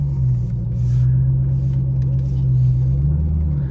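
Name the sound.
car driving in first gear into a portable carport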